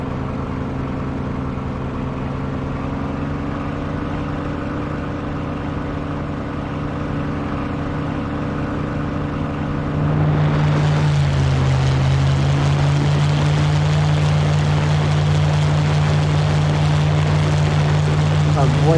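Propeller fighter engine droning in War Thunder, with prop pitch set fully fine; a steady loud hum swells into a louder, rushing roar partway through as the cockpit opens, with talk heard over it.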